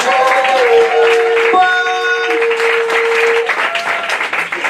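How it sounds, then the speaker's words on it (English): A comedy club audience in London applauds loudly and continuously while a short musical sting with sustained tones plays over the clapping. "let's give that round of applause"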